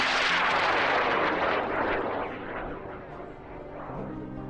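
A large rocket roars at launch with a loud, broad rushing thunder that slowly fades and thins as it climbs away, with no voices.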